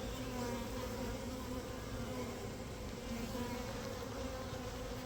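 Honey bees from two packages buzz steadily around an open hive, a dense, continuous drone close by that holds even throughout with no voices.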